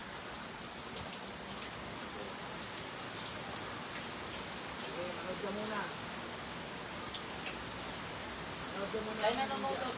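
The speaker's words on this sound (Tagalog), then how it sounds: "Ang lakas ng ulan." Heavy rain falls in a constant hiss and patter on surfaces, while a person speaks faintly beneath it near the end.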